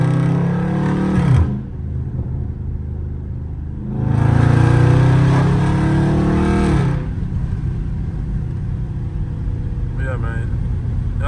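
A Dodge Scat Pack in track mode roars through sharp revving bursts, heard from inside the car, with two loud engine surges and rapid downshift blips between a lower steady drone.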